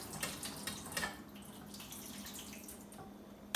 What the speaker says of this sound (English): Let's give it a quick rinse.